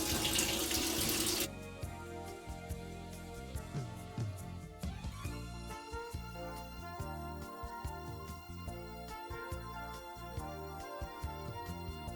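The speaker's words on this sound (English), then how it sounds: "all it is just running that over the water and making sure that all falls out" Kitchen tap water pours over raw shrimp in a bowl as they are rinsed for Yucatan shrimp tacos, a steady splashing stream that starts loud and then settles into softer trickling with small clinks.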